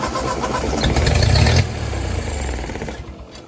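A Ford 8N tractor that sat in the weeds for over five years cranks and fires, its engine loud and rough before dropping to a steadier, softer running note and fading near the end.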